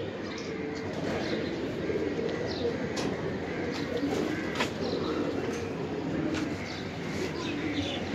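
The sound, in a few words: pigeons cooing, Birmingham roller pigeons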